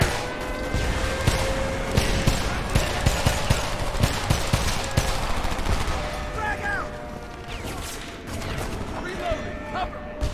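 Sustained gunfire in the video game Homefront, dense rapid bursts and volleys cracking continuously at close range, loud throughout with faint voices underneath.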